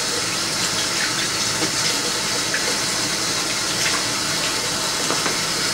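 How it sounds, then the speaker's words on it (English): Tap water runs steadily to rinse off the bottom of a pot used for homemade spaghetti sauce, a continuous close hiss of flowing water at even loudness throughout. "I normally just rinse off the bottom of this."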